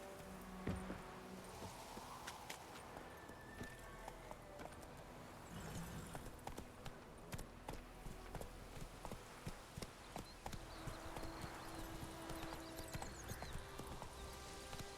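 Steady clip-clopping hooves of the horse Roach in The Witcher III, a continuous rhythmic trot running throughout, with an occasional whinny and faint game ambience behind it.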